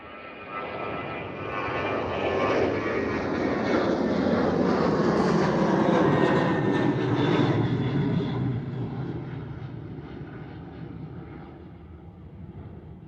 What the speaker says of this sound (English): Our Ryanair is going to Dublin, 737-8AS, flight number FR447.